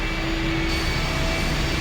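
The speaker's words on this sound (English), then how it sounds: "The engine's starting up again." A machine engine starting up in I Have No Mouth And I Must Scream, a steady droning hum with a faint tonal whine that holds evenly throughout.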